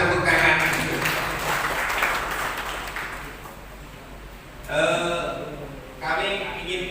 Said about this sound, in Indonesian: LPCR luar biasa, tepuk tangan.